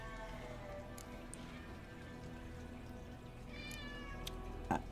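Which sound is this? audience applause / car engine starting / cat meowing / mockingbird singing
cat meowing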